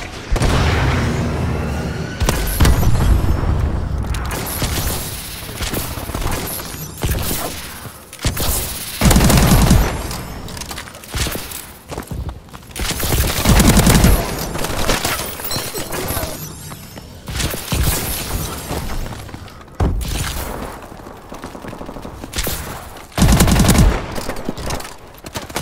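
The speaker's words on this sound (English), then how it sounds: "Friendly missile strikes inbound" Missile strikes and heavy gunfire in a shooter game, with sustained automatic fire and repeated deep booming impacts landing every few seconds, loud and continuous throughout.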